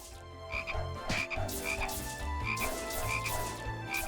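Frogs croak in the Touhou Scarlet Curiosity video game, a dense, steady run of repeated croaks over busy game music and effects, loud and continuous throughout without any talk.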